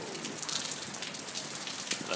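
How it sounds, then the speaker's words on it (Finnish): Rain falls steadily in Iceland, a soft continuous patter of drops on surfaces, fairly faint and even, with a few slightly sharper drips. "Täällä sataa aika kohtalaisesti."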